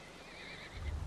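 A horse in the video game Lord of the Rings Online gives a single clear neigh, a wavering whinny rising over a low background hum, with a soft thud at the close.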